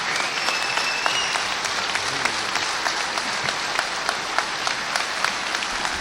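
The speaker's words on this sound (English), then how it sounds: "Give him a round of applause." An audience at a rally gives a sustained round of applause, dense steady clapping that fills the hall for several seconds, heard from within the crowd.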